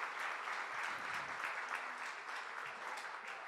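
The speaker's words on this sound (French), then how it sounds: "Vous pouvez l'applaudir." Applause from an audience at a conference welcome session, a soft, even patter of many hands at a distance, steady and unbroken for a few seconds with no speech.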